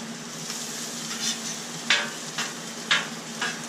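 Patties sizzle and fry in a hot pan with onions nearby, a steady crackling hiss broken by a few sharper spatters as they cook.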